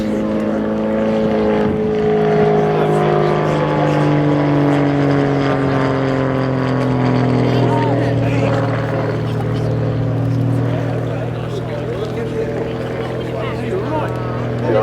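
Grob aerobatic aeroplane flying manoeuvres at an air show, a steady propeller engine drone with shifting pitch sweeps sustained throughout under a commentator's voice.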